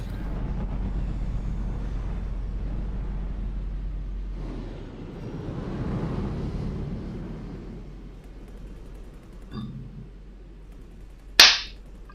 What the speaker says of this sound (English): Oh, I hear some gunfire.